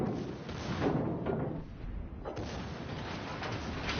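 Naval guns firing high-explosive and armour-piercing shells in the World of Warships video game, heavy rumbling booms rolling continuously through the whole stretch, loud and dense with no voice over them.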